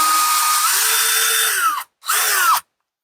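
A power drill bores a countersunk hole into a piece of driftwood, whining steadily close up, pausing briefly, then running again for a short burst before stopping.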